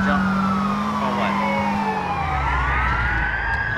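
Police sirens from GTA IV wail continuously with rising and falling sweeps, loud and close throughout over a steady engine drone, with voices faintly mixed in.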